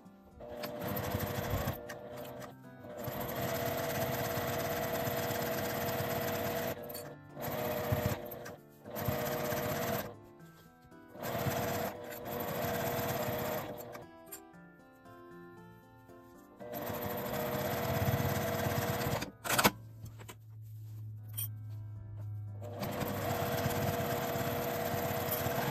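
Sewing machine stitching a 1 cm seam allowance on a lined mini tote bag made of Indian cotton seersucker, running in several bursts of steady whirring with short pauses between them, close and loud with no talk.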